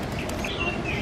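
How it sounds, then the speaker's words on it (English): A black-collared starling gives a brief pair of thin whistled calls at moderate distance, set against a busy, noisy outdoor wash in a zoo park. "That's a black-collared starling."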